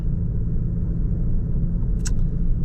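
A car rolls steadily past a battlefield park visitor center, a constant low road rumble and engine drone filling the cabin with one brief higher click near the end.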